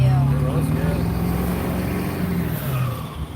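Ford 7.3 diesel engine running, a low droning rumble with a rising and falling pitch, heard from inside the vehicle beneath people talking.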